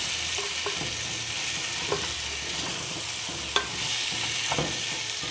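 Beef pilau sizzles steadily in a pot while a utensil stirs it, scraping and knocking against the metal every second or so, with one sharper clack midway.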